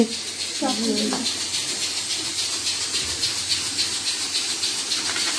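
Steam hisses steadily out of a pressure cooker of cooked aloo qeema after its weight is removed, a continuous broadband rush that lasts throughout, with a short voice near the start.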